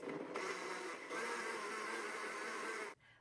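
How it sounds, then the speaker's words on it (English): A blender whirs steadily while processing peanut butter sauce ingredients for a raw slaw, a continuous motor roar with a brief dip before ramping back up and cutting off abruptly near the end. "just turn your blender on"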